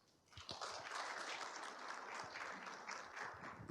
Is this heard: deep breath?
no